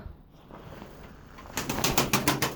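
Domestic pigeons at a nest with eggs, soft low cooing at first, then a burst of rapid wing flapping close by, loud fluttering beats.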